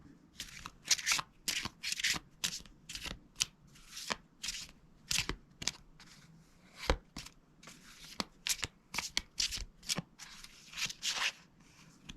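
Harry Potter themed cards being shuffled by hand, a long run of quick crisp riffles and flicks in irregular bursts, close and fairly quiet with no talking.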